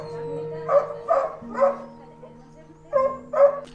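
A rescued dog gives a run of short barks and yips mixed with whimpers, five close, fairly loud bursts spaced irregularly over a low steady background hum.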